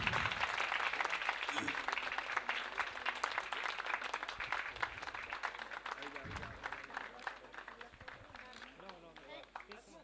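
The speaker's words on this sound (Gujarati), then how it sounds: "તાળીઓનો ગડગડાટ ચાલુ રાખશો." A crowd claps steadily at a temple ceremony for a Ramdev shrine, the sustained applause continuing for the full length while someone speaks over a loudspeaker.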